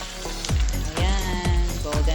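Cornstarch-coated fish frying in a pan, a loud crackling sizzle punctuated by regular sharp pops and spatters about every half second.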